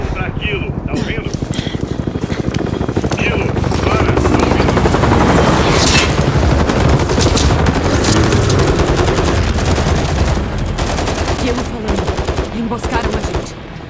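Rapid bursts of gunfire crackle over a loud, thumping helicopter-like drone in Call of Duty: Modern Warfare III, with voices shouting under the continuous barrage.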